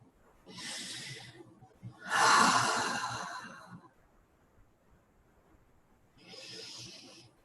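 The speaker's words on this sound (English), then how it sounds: "Breathing in." Slow, deep breaths drawn in and let out during a guided meditation: three soft, airy swells of breathing with quiet pauses between, close and gentle, with no talking.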